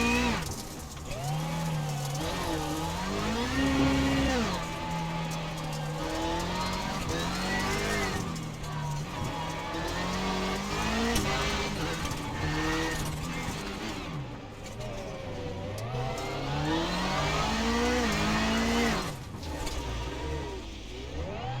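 Onboard engine of Matt Hartley's number 48 rallycross car in a sim racing game at Iowa, steady and loud, its pitch rising and falling with repeated revving, upshifts and deceleration through corners.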